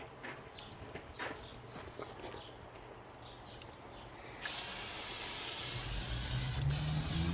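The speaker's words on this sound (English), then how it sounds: "spray some oil on that" A steady hiss of cooking oil spray onto a Kamado Joe Big Joe grill starts abruptly partway through and continues loudly to the end, after a quieter stretch of faint background noise.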